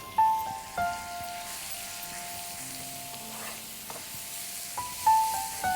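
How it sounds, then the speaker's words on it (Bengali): Finely grated carrot fries gently in about three tablespoons of ghee over low heat, a soft, steady hiss beneath intermittent high electronic beeps and tones. "ঘি দেবো এখানে আমি 3 টেবিল চামচের মতো। গাজর যে মিহিন গ্রেট করে রাখা, সেই ঘিতে একটু ভেজে নেব।"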